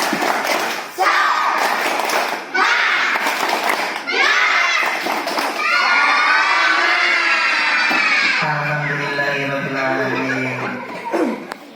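A group of children at an Isra Mi'raj gathering perform the 'tepuk semangat' clapping chant, with bursts of clapping early on and loud, energetic shouted chanting voices filling the rest.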